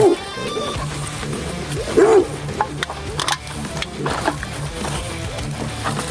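Dog barking outdoors along a road, a few sharp barks and yips at moderate distance amid background noise, with a person speaking at times.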